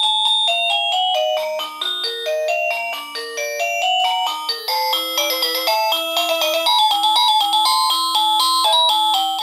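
An alarm device plays a classical melody as a bright chime, a clear run of bell-like notes in steady rhythm, close and continuous for several seconds with no one speaking.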